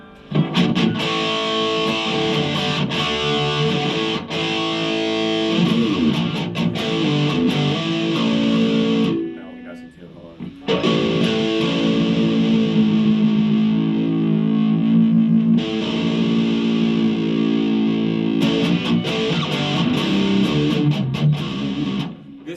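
An electric guitar through a Marshall MG15 MSII amp on its distortion channel plays loud, fuzzy riffs and sustained chords, with a brief drop to near silence partway through. Nobody speaks.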